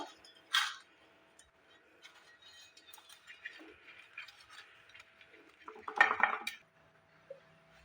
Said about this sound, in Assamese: বাতিটোত মই ভালদৰে ৰিফাইনখিনি ঘঁহি ল'ম।